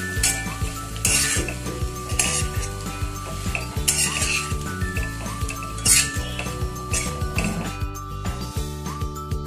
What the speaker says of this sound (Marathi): आता हा चुरमा टाकूयात। मिक्स करून घेऊया।